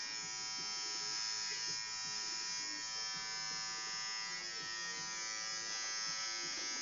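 Electric shaver taking off eyebrows, a continuous close buzzing hum that holds steady throughout, with voices talking faintly underneath.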